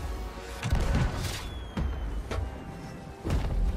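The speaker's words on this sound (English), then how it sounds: "Big firework." Fireworks going off in the pirate game Sea of Thieves, several deep booms and thuds spaced irregularly over a few seconds, moderately loud against a low background.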